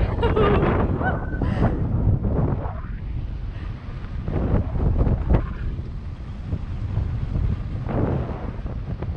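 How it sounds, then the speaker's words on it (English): Gusty wind buffets a sailing boat under sail with its engine off at sunset, a steady loud roar with rushing water and brief honk-like creaks over the first seconds. "Getting a bit gusty, but we're getting some speed."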